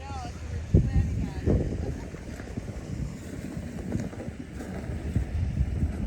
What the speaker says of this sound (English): The wind is picking up pretty bad out here on the bay.